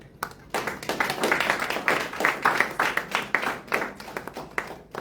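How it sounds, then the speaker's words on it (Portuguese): An audience at a Mozambican literature book event applauds the publisher, with dense, sustained clapping from many hands that carries on steadily at a lively, fairly loud level. "vou pedir uma salva de palmas para a editora"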